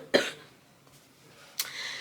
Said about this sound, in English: I got this really bad cough.